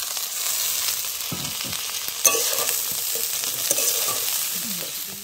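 Pre-fried vegetable curry hits a hot pan over an outdoor riverside fire, hissing and sizzling steadily while a spoon stirs and scrapes through it with a few sharper clinks.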